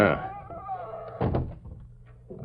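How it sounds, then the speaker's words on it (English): A door is pulled shut in a 1945 Lone Ranger radio drama, one dull thud in the middle of the clip, after a brief voice at the start. "Close the door behind you."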